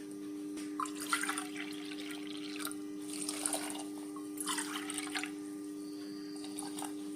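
Water splashes in a few uneven bursts over a steady electrical hum, as if poured in stages into a pot, 1.5 cups, with no talking.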